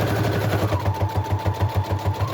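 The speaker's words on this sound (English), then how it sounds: "sew all the way around the 4 edges, and whoops. And I'm gonna do a zigzag stitch." A sewing machine runs a zigzag stitch with green thread around the edges of fabric for a botanical crinkly journal, its steady rapid mechanical thumping close and continuous with no talk.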